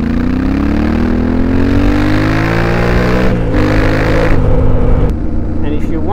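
A Yamaha Ténéré 700 adventure motorcycle cruises in sixth gear on a trail in Greece, its engine a loud, steady low drone with wind rush and a slight pitch rise and fall.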